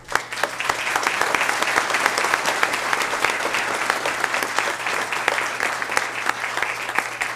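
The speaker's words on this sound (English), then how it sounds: "I don't know that we gave these kids and teacher a round of applause" Steady, dense applause from a board meeting audience for students and their teacher, many hands clapping close by at an even level with no voices on top.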